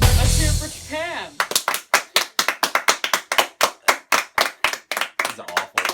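Studio audience clapping in a sharp, rhythmic series of about twenty loud claps, coming in after a brief spoken line and a musical sting, steady and close.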